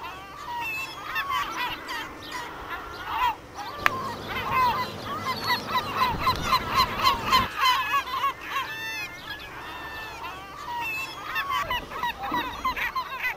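A flock of gulls calls while feeding at a smoky garbage dump, with overlapping honking and yelping cries rising and falling, some near and loud, others farther off, against a low rumbling background.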